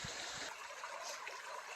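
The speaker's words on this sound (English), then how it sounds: "I'm at my second creek crossing." Water flowing steadily in a creek at a trail crossing along an old logging road, a broad continuous rush heard close and alone.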